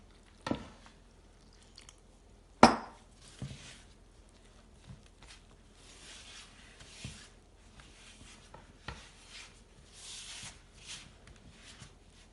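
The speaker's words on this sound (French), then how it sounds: "Et je commence à mélanger." Homemade burger bun ingredients (salt, vinegar, milk, water) are stirred in a bowl, giving faint, sporadic squishing and scraping with an occasional sharper knock against the bowl, close by and without talk.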